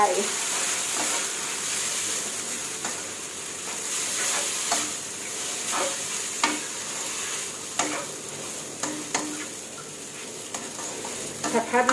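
Glass noodles are stir-fried in a hot pan, with a steady sizzle and frequent scraping and clinking of a utensil against the pan, heard alone at close range.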